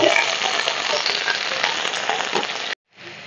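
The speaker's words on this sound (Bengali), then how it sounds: "তেলের মধ্যে দিয়ে দিলাম কোয়াশ" Squash pieces hit hot oil and fry with a loud, dense sizzling hiss that holds steady, then cuts off abruptly and returns more faintly.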